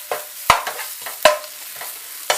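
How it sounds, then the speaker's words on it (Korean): Onions sauté in a frying pan, with sharp utensil scrapes and taps against the pan at an irregular pace over a soft sizzle, close and clear. "양파를 색 나지 않게 볶아주시다가 시금치 넣어주세요"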